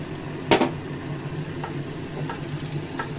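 Spice paste hits a hot pan for chhanar dalna with a loud burst of sizzle at the start, then a steady close frying hiss with a few faint scrapes or stirs, no voices.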